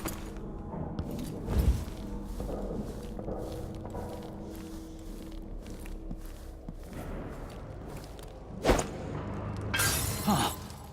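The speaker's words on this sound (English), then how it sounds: "That sounded like broken glass." Glass shattering in the video game Dishonored 2, a sharp burst near the end after footsteps and thuds of in-game movement, no talking.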